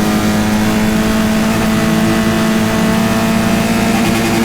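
Caterham race cars accelerate hard around Croft Circuit during a Roadsport race. The engine roar is loud and steady and lasts the whole stretch, with several cars running close together and no talk over it.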